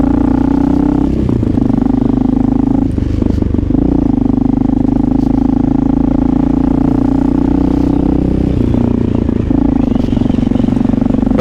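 Honda XR650L motorcycle on stock exhaust riding through jammed, snowy New York City traffic near the Midtown Tunnel, with a steady, loud engine drone and small rises in revs and some road clatter throughout.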